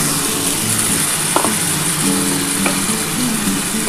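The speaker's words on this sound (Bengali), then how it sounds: "এবার আমি এই মশলার জলটা দিয়ে দেবো" Spiced masala water poured into a hot pan of fried masala for a light fish curry, producing a loud, dense, continuous sizzle with a couple of brief clinks, close by and without speech.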